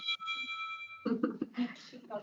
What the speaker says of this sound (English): excuse me, phone's ringing here.